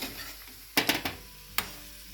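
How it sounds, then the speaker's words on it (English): Devilled chicken is stirred in a pan: a soft background sizzle is broken by a quick cluster of three scraping stirs and then one more, all close and fairly quiet, with no talking. "You need to mix it properly."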